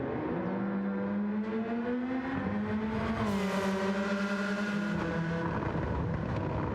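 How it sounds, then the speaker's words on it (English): Toyota 3S-GTE-style race car engine in Gran Turismo 7, revving with anti-lag, a steady loud drone whose pitch climbs and dips, with a brief tire squeal. "Sounds like a 3S GTE."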